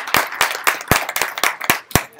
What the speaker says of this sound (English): So if everybody could give him a round of applause.